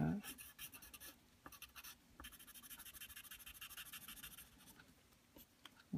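A dull, worn-down pencil scratches and scrubs steadily across paper while darkening shading on a cartoon rat rod drawing, close and quiet, with brief taps and pauses along the way.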